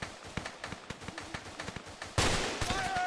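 Gunfire in ArmA 2: Operation Arrowhead, a military shooter game: a steady series of moderately distant single shots at a brisk rhythm, then a louder, closer burst of fire near the end.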